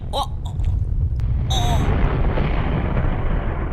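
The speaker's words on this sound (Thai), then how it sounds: "แรงระเบิดครับทำให้เราแตก" An explosion booms in The Radio Tower video game as a dense, loud rumbling blast that fills the whole clip, with a few brief sharp bursts at the start and partway through.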